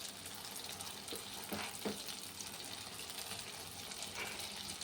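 Rasam vada fritters frying in hot oil, a steady, dense sizzle and crackle that runs throughout at low volume with no talking.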